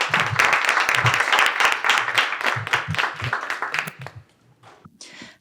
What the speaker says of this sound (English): let's give a round of applause for our panelists tonight